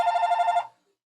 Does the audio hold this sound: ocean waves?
no